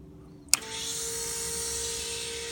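A Victory V92C motorcycle V-twin cold-starts on choke in neutral: a sharp crank burst catches into a steady, loud, broadband idle that holds without stopping.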